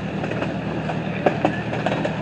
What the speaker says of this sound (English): There's the old locomotive. It was like one of those steam trains.